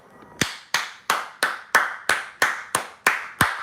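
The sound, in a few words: clapping imitating a girl clapping her cheeks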